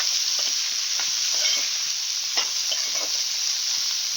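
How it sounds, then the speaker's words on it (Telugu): Ivy gourd pieces stirred into fried onions in a hot pan give a steady close sizzle and hiss, with soft scraping stir strokes recurring throughout and no voices. "దొండకాయ వేసి బాగా కలుపుకొని"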